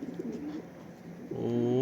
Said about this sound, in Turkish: Çok kuş kalabalık kuş.